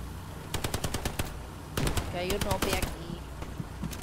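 Machine-gun fire in the World War II shooter Hell Let Loose, sharp bursts of rapid shots at mid-distance followed by denser overlapping gunfire, with players talking over the action.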